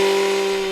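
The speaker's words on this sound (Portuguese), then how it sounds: "Barulho de motosserra aqui significa reflorestamento" A chainsaw runs during reforestation work, giving a loud, steady high engine whine that holds its pitch through the brief moment, with no one speaking.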